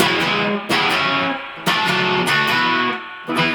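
Distorted electric guitar strummed in a loose, messy way, several ringing chords struck in uneven bursts with a dense, jangly wash of strings.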